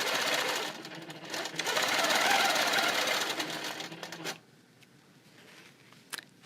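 A sewing machine stitches fabric while quilting ray-pattern blocks, running as a steady close whirring hum for about four seconds and then stopping, with faint handling noise afterward.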